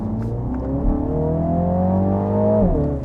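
A 2022 MINI Countryman JCW engine pulls hard under acceleration, its steady rising drone climbing through the revs with a brief dip at a shift before climbing again, heard from inside the cabin.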